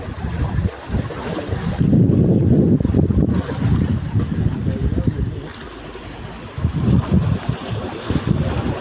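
A fishing boat out at sea, working far offshore for kingfish and similar fish, gives a steady low rumble of engine and water while gusty wind buffets the microphone throughout.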